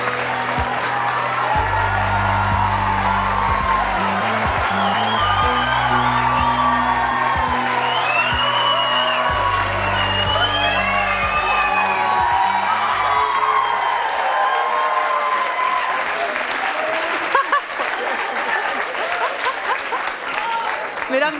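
A French television talk show's studio audience applauds and cheers as the guests come onto the set: sustained, dense clapping with some whoops that runs loud for about fifteen seconds, then thins out and fades toward the end.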